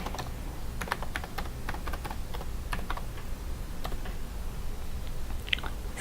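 Computer keyboard keys typed in a quick, irregular run of light clicks, steady and close, no voices, while entering text in animation software.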